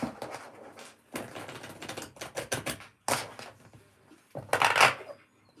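A tarot deck is shuffled close up in several rapid riffling and patting bursts separated by short pauses, the last burst the loudest, with no talking.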